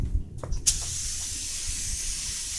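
A Spray It 3000 sprayer lightly misting a car headlight, a few short puffs followed by a steady close hiss of spray.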